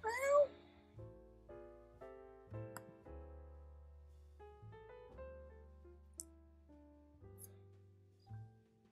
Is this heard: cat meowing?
yes